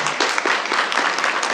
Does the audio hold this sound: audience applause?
yes